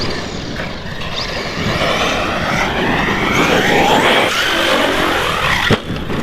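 A loud, close ARRMA Nero 6S RC car on a 17-tooth pinion screams through a sustained high-speed run, the electric motor whine sweeping up and down steadily, with a brief knock near the end.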